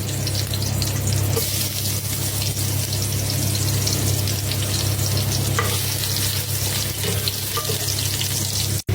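Garlic and ginger frying in hot oil for a goat meat dish, a loud, steady, close-up sizzle holding without a break for several seconds before cutting off abruptly, with no talk.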